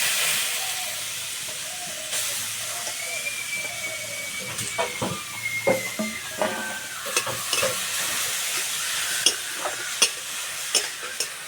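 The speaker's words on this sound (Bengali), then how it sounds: "এবারে গ্রেট করা গাজর দিয়ে দেবো।" Grated carrot sizzles in white oil in a wok, a continuous close hiss broken by frequent scraping stirs and clinks that grow busier toward the end.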